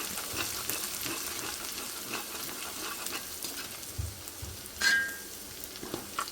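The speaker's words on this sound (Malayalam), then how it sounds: "നമ്മൾ സവോള ആഡ് ചെയ്ത് കൊടുക്കണുള്ളൂ കേട്ടോ ഇതിൻ്റെ പച്ചമണം മാറണ വരെ നമുക്കൊന്ന് ഇളക്കി കൊടുക്കാം" Onions fry in an aluminium pan while being stirred, a steady crackling sizzle with repeated scraping strokes and one sharper clatter near the end.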